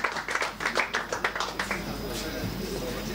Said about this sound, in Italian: Un grosso applauso all'Atletico Anzio Lavinio Calcio 5